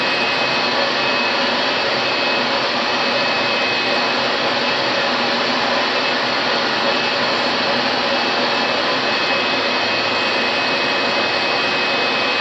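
A car polishing machine buffs painted bodywork during wet sanding and polishing, giving a loud, steady motor whir with broadband friction noise that holds unbroken throughout, with no voices.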